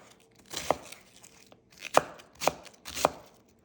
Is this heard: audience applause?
no